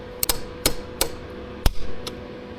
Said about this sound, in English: I'm going to hit it with a rubber hammer